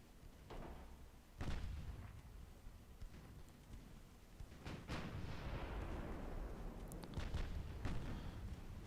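Heavy explosions from torpedo hits striking a warship in the naval game Ultimate Admiral: Dreadnoughts, a series of booming blasts and rumbling impacts spread through a steady roar of battle noise, with no voices.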